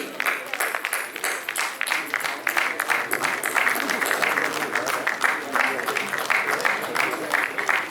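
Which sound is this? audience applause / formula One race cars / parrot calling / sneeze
audience applause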